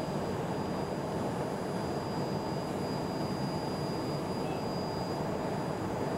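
Citation Mustang business jet engines at climb power, a steady, dense roar with a faint high whine, heard from inside the cockpit with no talk.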